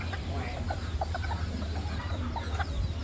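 Serama chickens cluck in short, scattered bursts over a steady low hum, close and fairly even in loudness throughout.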